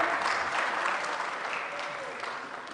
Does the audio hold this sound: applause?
yes